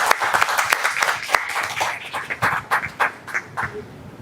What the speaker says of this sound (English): Let's give a big clap to Jacob.